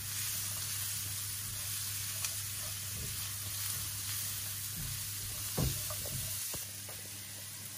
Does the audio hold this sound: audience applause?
no